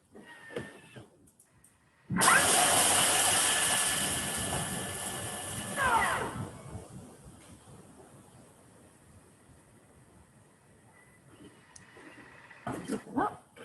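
A Thermomix TM6 chopping fresh parsley, a sudden loud whirring blade burst lasting about four seconds after quiet rustling, then fading to a low hum with faint handling noises.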